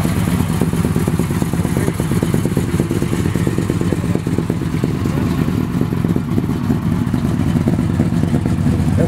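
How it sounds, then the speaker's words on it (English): A clean Chevy rolls past at a car show with a loud, steady engine rumble that holds for several seconds amid crowd noise. "That's one clean Chevy going there, y'all."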